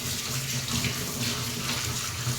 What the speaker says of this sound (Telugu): దాన్ని ఇప్పుడు శుభ్రంగా కడుక్కుందామండి